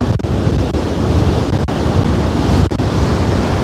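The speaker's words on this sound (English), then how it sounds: "Can you hear the wind?" Steady roaring wind at an ocean beach on Hilton Head Island, South Carolina, mixed with the wash of surf, loud and buffeting the microphone throughout with a few brief gusty dips.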